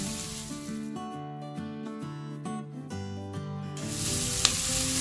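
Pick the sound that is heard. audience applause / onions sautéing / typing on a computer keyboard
onions sautéing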